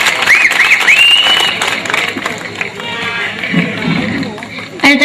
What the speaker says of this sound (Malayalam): എന്താരും ഒന്ന് കൈയടിക്കത്, ഒന്ന് കൈയടിക്ക